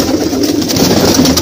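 Desi pigeons coo steadily at a busy pigeon market in Old Delhi, soft throaty calls layered over a dense, close hum of many birds.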